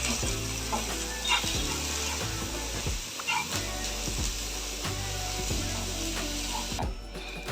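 Bitter gourd with salt is sautéed in a pan, a steady sizzle with repeated scraping and knocking strokes of a spatula, close and continuous with no talking.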